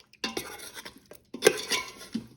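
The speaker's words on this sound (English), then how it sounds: "And now just mix gnocchi with the sauce." Gnocchi being stirred into pasta sauce in an Instant Pot, with two bursts of utensil scraping and clinking against the pot, separated by a brief pause.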